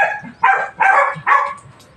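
A dog barks three times in quick succession, loud and close, with short pauses between the barks.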